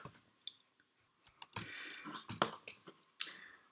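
Computer mouse and keyboard clicks while setting up a project in Unity Hub, a handful of sharp close clicks and a short burst of rapid clatter, no talk.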